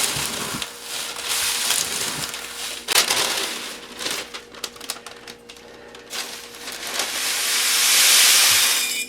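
Dried instant rice clumps crumbled by hand, a dense dry crackling and rattling of grains, loud and close, with brief pauses and a hissing rustle toward the end.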